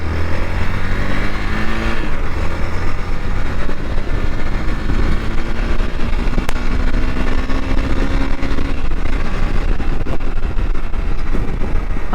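A Hero XPulse 200 BS6 motorcycle with a 200 cc engine cruising on a highway, its steady engine drone and rushing wind loud and close throughout, with no talk.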